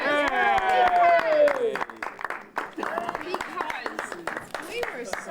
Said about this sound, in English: could we all give them a nice round of applause?